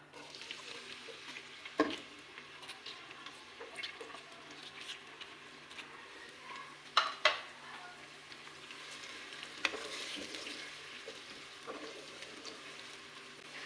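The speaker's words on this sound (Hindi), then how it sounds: "अब मैं इसमें 1 मीडियम साइज़ का प्याज मैंने चॉप किया हुआ है ऐड कर देंगे।" A chopped medium-sized onion goes into bubbling hot cooking oil for an aloo methi dish, giving a soft, steady sizzle throughout with a few sharp clinks and stirring clatters close by.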